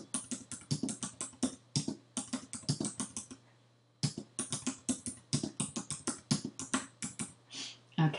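Quick bursts of keystrokes on a computer keyboard typing text, close and crisp, in fast irregular runs with a short pause in the middle, over a faint steady hum.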